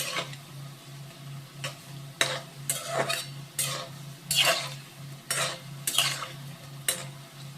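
Pumpkin fritters deep-frying in oil give a constant bubbling sizzle, broken by repeated sharp scrapes and clinks of a utensil against the pan, close and loud, with no voices.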